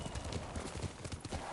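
Horse hooves clip-clopping in Ghost of Tsushima, a steady, close run of rhythmic hoofbeats under a dense game soundscape.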